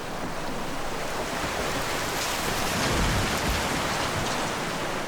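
Heavy rain falling in the Tatra Mountains, a dense, continuous hiss of downpour with a low rumble underneath, steady and loud without any voices.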